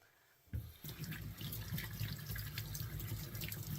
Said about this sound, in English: I'm going to wash up these mushrooms